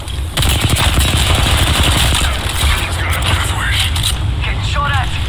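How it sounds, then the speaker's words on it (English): Dense, loud automatic gunfire from enemies in an Apex Legends match rattles almost continuously, with game effects layered over it and a voice talking underneath. "They're shooting at me."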